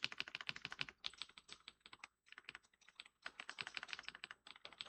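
Fast, steady typing on a computer keyboard during a coding lesson, close and clear, with dense bursts of key clicks and brief pauses, no talking.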